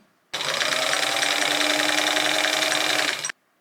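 A sewing machine runs a single steady burst of stitching along a cushion seam, loud and close, starting and stopping abruptly after about three seconds.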